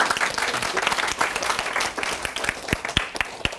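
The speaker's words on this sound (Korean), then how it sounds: "이렇게 제가 인사를 하면 박수를 쳐주시면 되게 열심히 하고요" Seated audience at a college admissions seminar applauds, a steady burst of clapping with a few sharper individual claps standing out as it continues.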